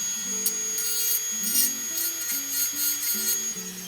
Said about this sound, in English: there's a burr on here. I'm going to take the burr off.